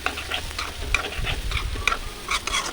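Potatoes sizzling and frying in hot oil in a pan, with a spoon scraping and stirring them in steady, soft strokes throughout; a close, continuous crackle with no talking.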